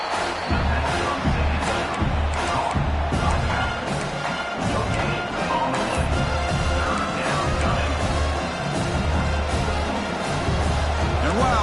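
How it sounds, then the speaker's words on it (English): A huge stadium crowd at a college football playoff game, Indiana at New Orleans, roars and cheers continuously, loud and close, with heavy thumps and rumbling stomping underneath the whole time. "Listen to this crowd noise. This stadium is vibrating."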